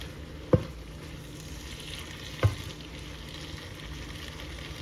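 Tomatoes being stirred into sautéing garlic kale, a faint steady sizzle in the pan with a few soft knocks of the spoon spaced a couple of seconds apart.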